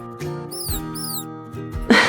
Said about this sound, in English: It's a rat. A little white rat.